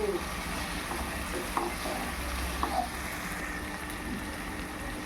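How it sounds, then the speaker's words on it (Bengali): Cashews, melon seeds and onion frying lightly in a pan, a steady soft sizzle with occasional stirring scrapes, close and continuous throughout. "এবার এই কাজু আর চালমগজ আর পেঁয়াজ একটু হালকা ফ্রাই করে নেব"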